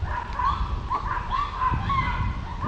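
Dogs bark repeatedly at a moderate distance, several rising yelps spread across a steady background hum, with no talking over them.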